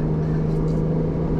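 Ferrari 296 GTB hybrid engine giving a brief, loud, low steady rumble from inside the car, with no voices.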